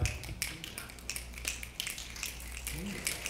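A live improv audience snaps their fingers in scattered, overlapping bursts instead of clapping, crisp clicks repeating irregularly over a low room hum.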